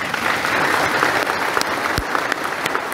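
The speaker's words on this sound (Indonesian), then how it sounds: "Tepuk tangannya mana?" Crowd applause at an Indonesian religious lecture, a steady wash of many hands clapping, loud and sustained throughout without talk.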